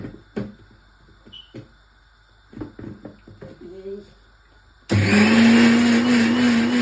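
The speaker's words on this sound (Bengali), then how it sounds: "পেঁয়াজটা ব্লেন্ডার করে দেই ওইটাই তো অন করি" Electric blender grinding chopped onions, switching on abruptly into a loud, steady motor whine after a stretch of quiet voices and kitchen clatter.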